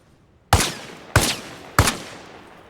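Three sharp, loud gunshots in Arma Reforger fire at an even pace about two-thirds of a second apart, each with a short decaying tail.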